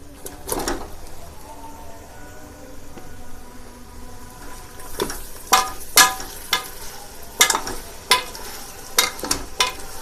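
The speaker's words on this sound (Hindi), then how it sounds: "अब हम इसमें 1 किलो गोश्त शामिल कर देंगे।" One kilo of beef dropped into a pot for yakhni pulao gives a quiet sizzle, followed by a series of sharp scraping and clattering stirs that grow more frequent toward the end.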